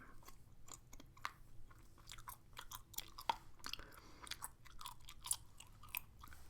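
Gum is chewed close to the microphone in an ASMR recording, with soft, wet smacks and clicks repeating irregularly against a quiet background.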